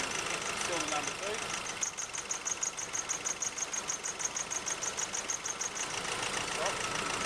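A 2008 Nissan Navara D40 diesel engine idles with a misfire, giving a steady rough, rhythmic knocking clatter at moderate level throughout.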